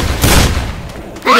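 Explosive grenade launcher blasts in Left 4 Dead 2 with booming, broadband bursts: a loud sustained blast early on, a quieter stretch, then another burst at the end, with a faint voice underneath.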